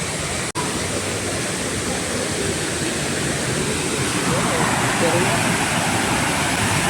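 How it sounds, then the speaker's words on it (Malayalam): Haritheerthakkara waterfall in Sreenaduvil, Kannur, a steady, loud broadband roar of rushing, falling water heard from a short distance, continuous and unbroken apart from a brief dropout near the start. "അപ്പോൾ ഈ കാണുന്നതാണ് ഹരിതീർത്ഥക്കര വെള്ളച്ചാട്ടം"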